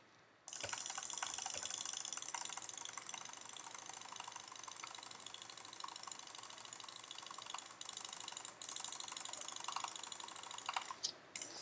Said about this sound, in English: Alright, now I'm going to do it when I'm jitter clicking.